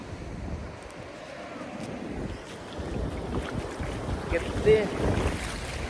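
Sea waves washing around a person wading at a beach, with steady surf and water wash under strong wind buffeting, a brief splash near the end, and a short spoken word.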